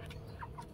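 A Merawang chicken on a small home-scale village chicken farm gives two short, faint clucks close by over a low background hum.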